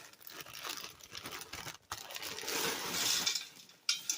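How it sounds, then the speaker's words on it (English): A plastic bag of string beans being cut open with scissors, crinkly rustling and snipping up close, rising into a louder crackle near the end, with no voices. "And we're cutting open the second bag."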